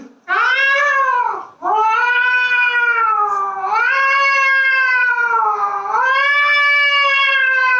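A cat meows in long, loud, close wailing cries, two drawn-out yowls with a brief break between them, rising and falling in pitch like a caterwaul, with no talking.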